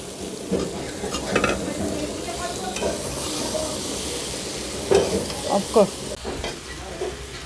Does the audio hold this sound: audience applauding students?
no